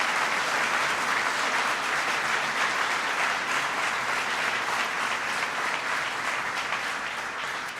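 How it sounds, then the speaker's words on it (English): A packed audience at Hudson Valley Community College applauds itself, a thick, even roar of clapping hands that stays loud for several seconds before easing off slightly. "So give yourselves a big round of applause."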